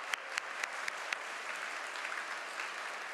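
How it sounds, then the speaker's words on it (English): A graduation ceremony crowd gives a round of applause for the class of 2026, a soft, distant wash of clapping with a few sharper individual claps standing out at the start. "Let's get a round of applause."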